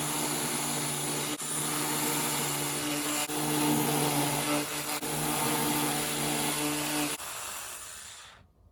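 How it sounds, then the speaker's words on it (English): A power drill bores holes into the fiberglass fuselage of an RC Sky Crane helicopter, a steady loud whine running almost nine seconds with brief dips before cutting off near the end. "what we're going to do is we're going to drill these"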